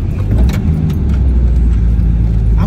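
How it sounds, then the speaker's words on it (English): A car bogging down on a bad, soft road in Shark Bay, Western Australia, with a loud, dense low rumble of engine and tyres churning throughout, close and continuous with no talking. "Oh, we're getting bogged."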